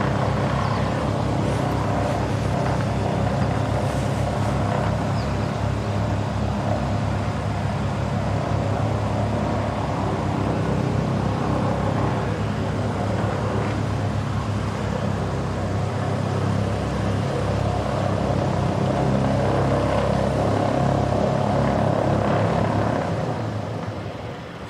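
Jetstar 287 airliner landing at Christchurch Airport in wet conditions, a loud, sustained low engine rumble and roar that continues steadily and eases slightly toward the end.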